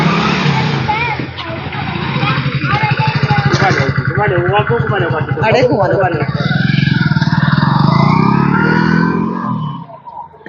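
A motorcycle is ridden by a man in a Haryana village, with its engine puttering and revving close by for several seconds under excited voices and crowd chatter.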